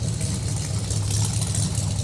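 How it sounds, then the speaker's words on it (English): Dual exhaust of a 1974 Ford Bronco idling, a steady low chugging rumble with a slightly lopey pulse, close and alone without talk. "dual exhaust, chugging away. It's got a pretty nice lopey little idle to it too."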